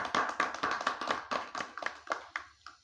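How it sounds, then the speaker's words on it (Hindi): At a Bihar Gaurav Yatra gathering of social activists, a welcome is met with about a dozen sharp, separate claps in a loose, regular rhythm, close and fairly sparse, tapering off at the end. "हम चाहेंगे कि उनका स्वागत आप सभी लोग तालियों के गड़गड़ाहट से करें"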